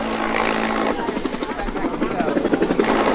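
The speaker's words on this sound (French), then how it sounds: "sur le toit duquel se posent deux par deux les hélicoptères géants" Loud, throbbing rotors of giant helicopters beat close by as they land on a rooftop, the chopping pulse growing stronger and more distinct as the aircraft comes down.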